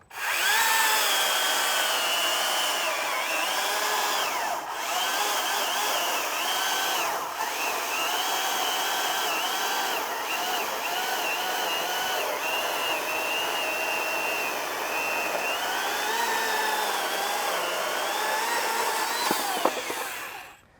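A STIHL MSA300 battery chainsaw cuts through a wood slab, a loud steady high whine that dips in pitch as it bogs down under load, running continuously up close.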